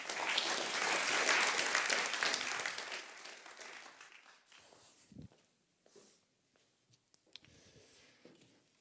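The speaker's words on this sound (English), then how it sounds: "Please, a warm applause for Huub Ruel." A warm round of applause greets speaker Huub Ruel at a talk on multinationals, loud for the first few seconds, then fading into scattered claps, shuffling and small room noises.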